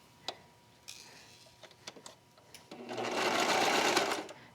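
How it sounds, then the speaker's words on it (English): A serger stitching the sleeve cuff and thumbhole trim of a long-sleeve top: a few scattered clicks and taps from handling the fabric, then a close, loud, steady whirring burst as the machine runs for over a second. "armholes are a little bit hard to get in your serger, but with some maneuvering, you can do it"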